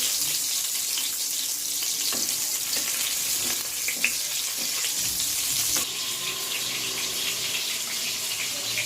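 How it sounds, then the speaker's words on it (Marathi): Tomatoes sautéing in oil in a pan over a low flame, giving a steady, close sizzle and hiss that runs throughout with a few faint scrapes. "आता हे टमाटे मंद गॅसवरच परतून घ्यायची"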